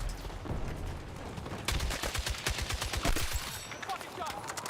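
Rapid gunfire from Battlefield 6 gameplay, a dense run of sharp shots that grows heavier midway, with a voice talking over the shooting.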